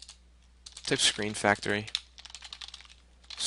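Someone types code on a computer keyboard, with quick light key clicks in short bursts. Someone talks over the opening and then the clicking goes on alone.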